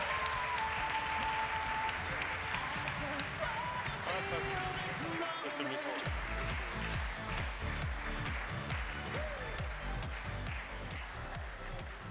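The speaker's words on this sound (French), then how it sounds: "Et un tonnerre d'applaudissements, s'il vous plaît." Loud, sustained audience applause at the E-Commerce Awards 2014 ceremony, with music playing underneath and voices audible through the clapping, continuing unbroken throughout.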